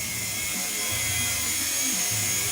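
A small remote-controlled helicopter flying indoors, a steady high-pitched electric whine with a buzzing rotor hum that rises and falls slightly, close and continuous.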